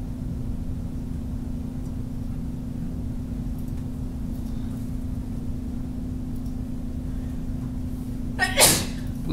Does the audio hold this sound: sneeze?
yes